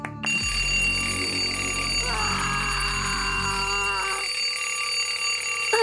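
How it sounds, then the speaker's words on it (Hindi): An alarm clock in an animated superhero cartoon rings loudly and continuously, a steady metallic bell tone with a brief change in pitch partway through, then cuts off near the end. "अलविदा अलार्म क्लॉक।"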